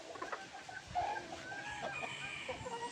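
Bruce Barnett sweater gamefowl hen, a white pit laying hen, giving soft clucks and a few higher calls close by against faint farmyard background.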